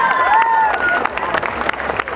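A crowd applauding, with dense clapping and some cheering; a high whistle-like tone sounds at the start.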